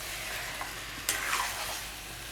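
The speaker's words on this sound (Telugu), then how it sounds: "ఫుల్ డ్రై అయ్యేంత వరకు సిమ్లో పెట్టుకొని ఫ్రై చేసుకోవాలండి." Chicken pieces frying on low heat for a ginger chicken dish, with a steady soft sizzle broken by a few scraping stirs of a spoon in the pan; moderately quiet and close, no voices.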